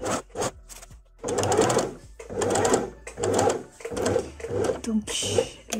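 A sewing machine runs in short bursts while stitching a dress seam, stopping at a pivot point with the needle left down and the handwheel turned, under a woman's speech.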